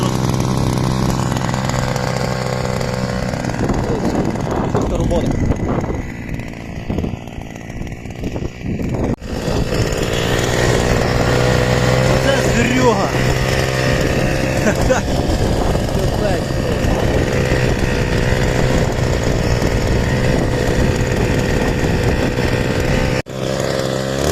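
Loud, close engine drone of a Forte MKB-25Lux petrol cultivator churning soil against anthills, running continuously with shifts in revs and a brief cut, while someone talks over it.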